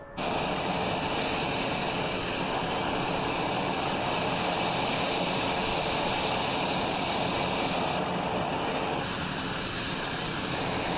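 TBM turboprop aircraft engine in the flight simulator X-Plane 11 drones continuously at a loud, steady roar with a high whine on top, heard from outside the parked plane with no talk.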